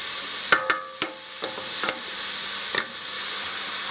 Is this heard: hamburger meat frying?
yes